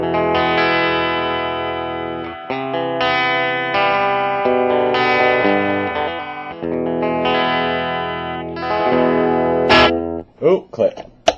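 An electric guitar plays sustained chords and notes through a modded RAT distortion pedal set low as a clean boost, giving mild boosted grit, ending with a few brief clicks and noises.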